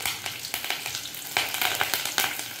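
Shallots and curry leaves frying in hot oil, a steady close sizzle with bursts of crackling pops repeating throughout, no voices.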